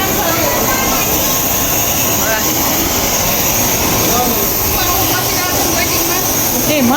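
A jet airliner's engines roar loud and steady at Nepalgunj airport on a hot night, a continuous broadband rumble and whine filling the whole stretch, with people talking faintly beneath it.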